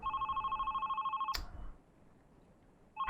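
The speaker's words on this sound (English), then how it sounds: "the haunting phone is like the most irritating thing ever, because you say hello and nobody ever answers" A telephone rings in the video game Love, Sam, a fast electronic trill that stops abruptly with a click, then after a brief pause starts trilling again, clear and alone.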